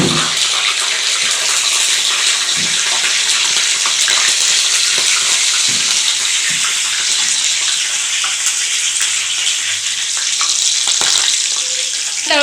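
Green chilies frying in hot oil left over from onion bhaji, giving a loud, steady, close-up sizzle and crackle that carries on continuously with faint scattered pops.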